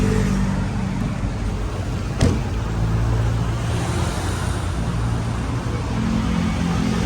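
A Honda Civic from Tanauan, Batangas rolls in with a steady, close engine drone and broadband road rumble, a brief sharp knock partway through, and no talk.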